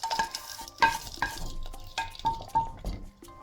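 A spoon stirs an aloo bhaji potato mixture with browned ginger and garlic in a pan, giving repeated scraping and clinking strokes over a soft sizzle, close and fairly quiet.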